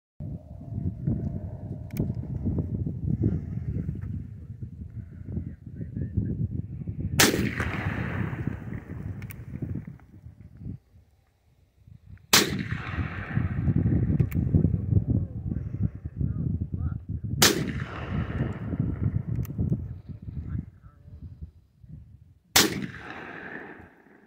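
Remington cartridge-conversion revolver in .45 Colt fired outdoors, four loud sharp gunshots spaced about five seconds apart, each with a ringing tail, over steady background noise and rumble.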